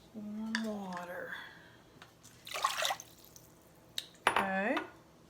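Water is poured into a bread dough mixture, a short splashing pour in the middle, with someone speaking softly before and after.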